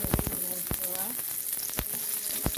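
Green chillies frying in hot oil, a crackling sizzle broken by sharp pops and spoon clatter against the pan, close and fairly loud with no talk.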